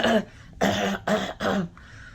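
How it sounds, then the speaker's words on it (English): A person with phlegm in the throat coughs and clears the throat in four short, harsh bursts separated by brief pauses, close and fairly loud, with no other sound. "I coughed twice."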